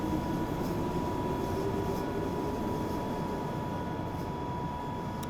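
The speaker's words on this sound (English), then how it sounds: "I quite like the sound of trundling trains" A Glasgow Subway train in the video game Train Simulator Classic trundles along, a constant low rumble with a steady motor whine that runs evenly and stays fairly quiet, with no speech.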